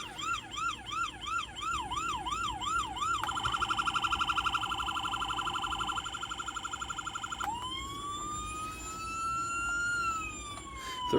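A small electronic police siren on a custom 1:18 Holden Commodore Clubsport diecast model cycles through tones. A quick rising-falling whoop gives way to a fast pulsing yelp, then a long slow wail, all tinny and continuous with no voices.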